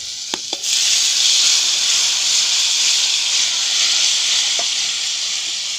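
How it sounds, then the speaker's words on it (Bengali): Water poured into spice paste frying in a pan for a spicy river fish curry, setting off a loud, steady hiss and sizzle that runs on for several seconds after a couple of brief clinks, with no talk. "জল পরিমাণ মতন দিয়ে দেব।"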